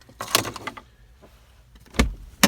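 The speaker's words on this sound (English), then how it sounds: "Open the door just to show the vehicle that we're not technically in it anymore." A Ford Escape being shut off, with a few sharp mechanical clunks and latch clicks of the car door opening, spaced out with quiet gaps between them, close by.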